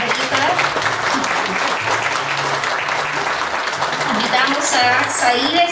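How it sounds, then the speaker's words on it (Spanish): Applause at a high school graduation ceremony as a student is called up, loud, continuous clapping from a large audience with voices and music mixed in underneath. "Un fuerte aplauso para Bernardita."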